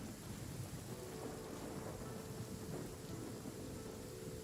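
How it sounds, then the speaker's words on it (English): Steady rain hisses in a Genshin Impact game scene while deep thunder rumbles low and continuous beneath it, a dense even wash of downpour with no voices. "just standing out here in the rain"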